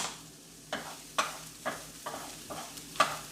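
A spatula pushes onions aside in a sizzling pan, about six scraping strokes in a loose rhythm over a low steady sizzle, close and clear, with no speech.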